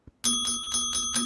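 A bicycle bell rings in a rapid run of about five sharp dings, the clear metallic tone sustaining between strikes, close and alone after a faint tap.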